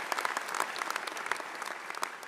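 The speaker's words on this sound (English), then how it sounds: "Let's give the Dean a round of applause for his great leadership here at Binghamton University." A steady patter of audience applause at a pharmacy school doctoral hooding ceremony, many hands clapping for the dean, moderately loud and even throughout the short burst.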